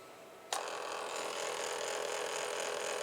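A portable mini printer suddenly starts feeding and printing onto a paper roll, its steady whirring hiss holding evenly after a quiet start, close and uninterrupted.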